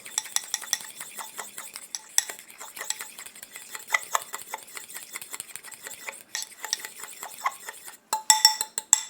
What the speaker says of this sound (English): I'll just stir that all up.